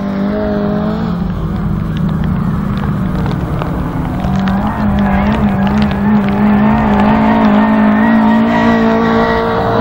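Autograss race cars lap a dirt track in a two-race final, engines droning and revving loudly and continuously as several cars pass close by.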